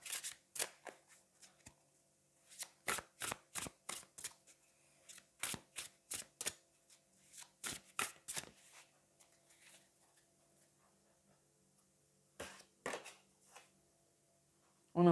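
Tarot cards are shuffled close up, with a series of crisp riffling flicks and snaps in short clusters and quiet pauses between them.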